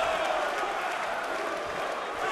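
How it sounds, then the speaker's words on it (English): Dense, steady crowd roar from spectors at a Final Fight Championship fight event, cheering and shouting continuously throughout, loud and close with no breaks. "he's got the crowd going anyway"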